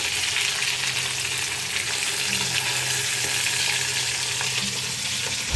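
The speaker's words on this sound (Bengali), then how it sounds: "আর এইদিকে ইলিশ মাছ ভাজা চলছে।" Hilsa fish frying in a pan, a dense, even sizzle held steady and close for several seconds, with occasional soft stirring clicks and no talking.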